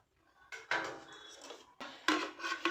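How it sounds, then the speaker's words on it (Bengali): A knife scraping around the sides of a biscuit chocolate cake in its metal tin, two close bursts of scraping metallic rasping and clinks with a pause between. "একটা ছুরির সাহায্যে সাইডটা এইভাবে একটু ছাড়িয়ে নেব যাতে এটা অনায়াসে বেরিয়ে আসে"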